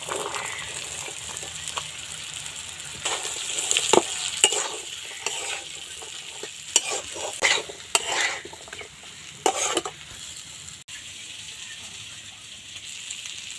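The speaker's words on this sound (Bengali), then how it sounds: "এবার দিয়ে দেবো আলু আলুটা একটু ভালো করে কষিয়ে নিতে হবে" Potatoes stir-fried in a spiced masala, with a steady low sizzle and bursts of spatula scraping and clinking against the pan in the middle stretch, close by, without talking.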